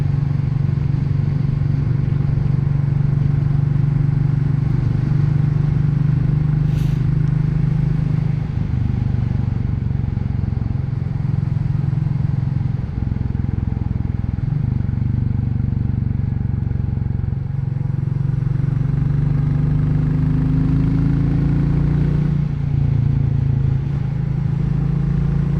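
A Royal Enfield Classic motorcycle engine drones steadily and loudly while riding, its thumping mid-low note shifting slightly in pitch through gear changes, with wind rush throughout.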